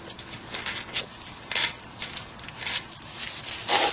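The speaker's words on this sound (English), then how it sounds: "First step is to remove these 6 screws that hold the cap on." Screws being removed from the spindle cap of a Ford Bronco, with repeated small metallic clicks and jingling taps close by in an irregular rhythm, no talking.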